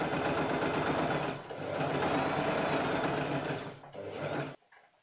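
A sewing machine stitches fabric in steady, rapid mechanical bursts, close and loud, pausing briefly twice before a final short run and stop.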